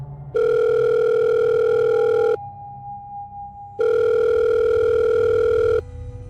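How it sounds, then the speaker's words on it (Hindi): A phone receiving an incoming call rings in two long, loud electronic tone bursts separated by a pause, with a steady steady tone between them and no voices. "तभी उसकी अम्मी का फ़ोन आया"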